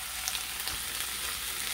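Ham slices crisp in a hot pan with a steady, fairly quiet sizzle and a few small pops, and no voices.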